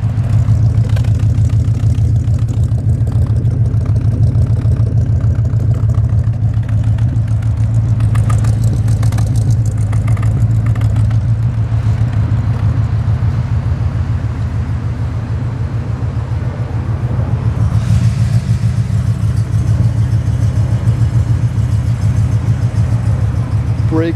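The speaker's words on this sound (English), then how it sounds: "Hear the exhaust." Exhaust of a 1967 Cadillac Eldorado idles with a deep, steady low burble, close and loud, holding an even rhythm for the whole stretch with a slight dip and swell midway.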